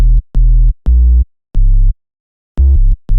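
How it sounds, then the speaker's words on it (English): Deep, buzzing sine-wave sub bass notes pulse in short, rhythmic bursts separated by brief silences, loud and up front. "Very simple sub bass over here, like it's literally just a sine wave."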